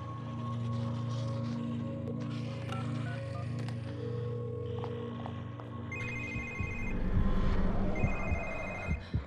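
A cell phone rings in The Evil Within horror game, a repeating electronic ring entering midway over a low droning ambient hum, moderately loud and alone without talk.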